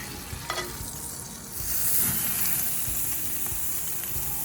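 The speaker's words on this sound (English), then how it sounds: "Now we're gonna throw it on the grill real quick." Brown sugar bourbon wagyu hanger steak set on a grill, a few light knocks, then a steady hiss of sizzling that swells and holds, close and fairly loud.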